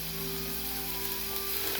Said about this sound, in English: we're just gonna cook this for a couple of minutes or until the onions start to brown